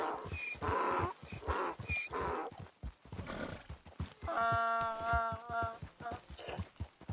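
Red Dead Online horse making donkey-like sounds: several close, loud snorts and brays, then a long, quavering whinny, with hooves clopping in between.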